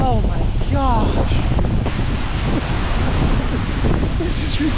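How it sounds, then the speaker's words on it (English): Strong wind buffeting the microphone beside a large waterfall in Iceland, a constant roaring rush of wind and falling water with faint voices underneath. "I've never been to a waterfall like this and you can feel the wind"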